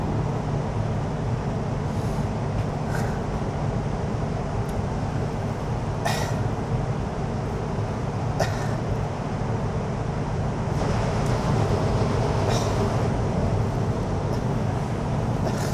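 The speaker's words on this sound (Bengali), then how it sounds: "দেখুন আমাদের বুলেট ট্রেন চলছে" A Chinese high-speed bullet train running at up to 350 km/h with a constant low rumble and hum, occasional brief clicks and rattles cutting through the steady noise.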